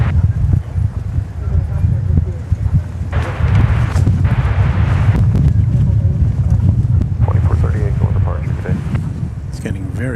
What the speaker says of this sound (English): It's getting very gusty.